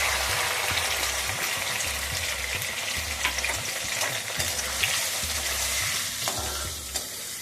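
Spice paste sizzles in a pan with fried potatoes, a dense steady frying hiss broken by repeated scraping stirs and soft low thumps of the spoon against the pan.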